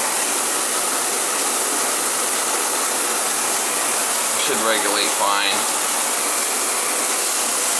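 Hot water rushes from a Symmons shower valve in a steady broadband hiss that runs the whole time, loud and close, with a brief spoken remark partway through.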